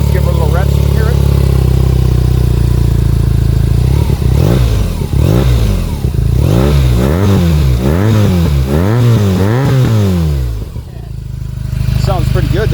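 A BMW R NineT boxer twin motorcycle, 2022 model with an Akrapovic exhaust, idles and then is revved several times in rising and falling sweeps, loud and close, before settling back to a steady idle.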